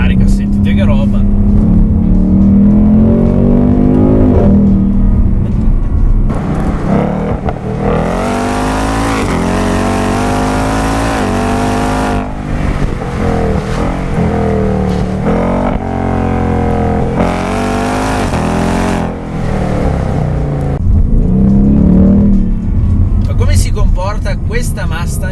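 A 2019 Ford Mustang 5.0 V8 on a narrow, twisty road, loud and close, with its engine repeatedly revving up and easing off in rising and falling sweeps, and a voice talking over parts of it.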